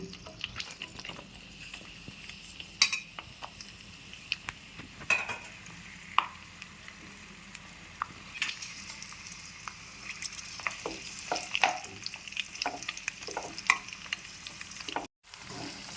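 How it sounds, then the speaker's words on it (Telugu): Green chillies frying in hot oil left from frying onions for Hyderabadi mirchi ka salan, a steady close sizzle with frequent spatula scrapes and clinks against the pan. "ఉల్లిపాయలు వేపిన నూనెలోనే ఈ పచ్చిమిరపకాయలు కూడా వేయించుకోవాలండి"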